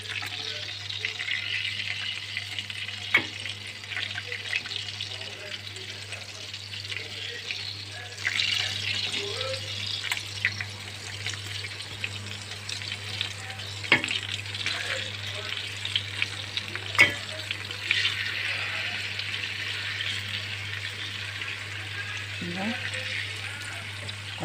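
Tomato slices frying in a pan of butter and a little oil over low heat, a steady soft sizzle with occasional clicks and utensil touches, while someone talks intermittently.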